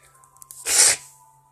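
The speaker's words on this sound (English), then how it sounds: "I sneeze." A single close, loud human sneeze bursts out in one short sharp rush after a faint intake of breath, with quiet background otherwise.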